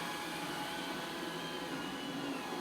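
Steady, even whirring and hum of a robot vacuum running in place on its spot-cleaning setting, constant and moderately close, with no talking.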